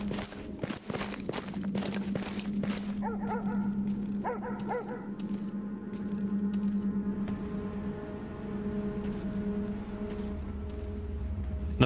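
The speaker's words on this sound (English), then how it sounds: "Pseudo dogs chewing on me." Pseudodogs attack in the video game Stalker Shadow of Chernobyl, with snarling, yipping and whimpering canine creatures mixed with sharp crackling bursts early on, then sustained growling and tonal game noise, loud and continuous.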